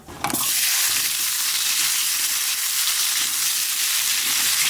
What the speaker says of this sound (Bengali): এই মাছ ভাজা তেলের মধ্যে আলু ভেজে নেব।